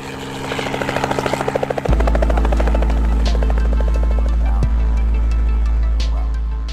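A helicopter's rotor thumps in a fast, steady rhythm before the sound swells into a loud, constant low-frequency roar and whine, close to the mic, with no voices.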